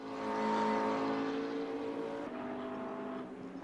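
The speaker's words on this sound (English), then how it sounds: "Ryan Precious McLaren coming across the start-finish line." A McLaren race car crossing the start-finish line at the Mount Panorama circuit, its engine drone swelling loud and then easing off steadily as it passes.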